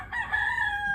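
A neighbour's pet rooster crows once, close and clear. The call holds a strained, drawn-out tone for about a second against a quiet yard.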